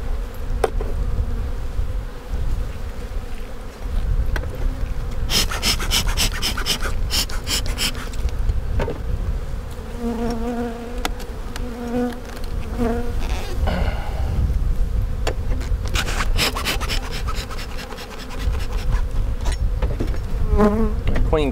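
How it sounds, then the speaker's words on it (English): A dense swarm of honey bees buzzes steadily up close at an open hive, a continuous droning hum with brief louder passes as individual bees fly near. "A lot of bees."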